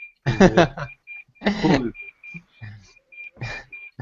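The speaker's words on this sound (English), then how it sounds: "Alarm. Someone is burning." A steady, high-pitched electronic alarm beeps in short repeated pulses, fairly faint and continuing under and between people talking.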